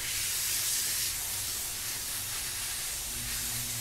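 A steady, close hiss of an airbrush spraying thinned Tamiya paint, continuous and even throughout with a faint low hum underneath.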